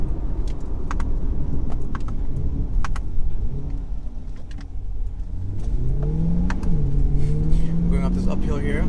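A mid-engine Chevrolet C8 Corvette Stingray Z51 climbs a hill, its close engine note droning and then rising steadily in pitch as it pulls harder, with faint clicks and road noise underneath.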